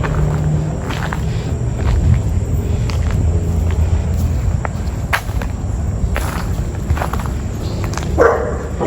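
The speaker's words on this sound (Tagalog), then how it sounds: "Ay, may aso dun." A dog barks a few times at a distance near an abandoned radio station, over a steady bed of insect chirping and outdoor ambience.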